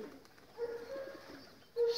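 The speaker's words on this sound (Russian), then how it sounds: "будем бороться с этими голубями" Soft, low pigeon coos sound nearby in a quiet setting, a couple of drawn-out calls with a louder one at the end.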